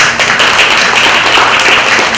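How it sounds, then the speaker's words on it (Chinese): A crowd applauds at a Lions Club charity event, a dense and steady wash of many hands clapping together that fills the space for a couple of seconds with no talk over it. "只希望大家的掌声了哈"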